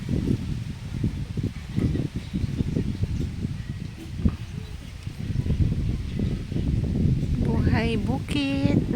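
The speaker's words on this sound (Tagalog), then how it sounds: "Ang lakas ng hangin" Strong wind sweeps across open farm fields in rural Zambales, producing a continuous gusty rumble that buffets the microphone, with a few bird chirps rising near the end.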